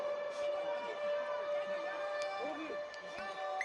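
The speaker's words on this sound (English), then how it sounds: "And the siren sounds." A stadium siren sounds a long, steady tone at the end of a 2018 Free State Cheetahs vs Pumas rugby match, moderately faint under constant crowd noise and a commentator talking.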